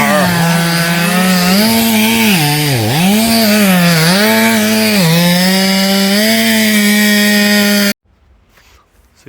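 A big Husqvarna chainsaw cuts through large wood in a forest work site, its loud close engine whine dipping and rising under load for several seconds before cutting off abruptly.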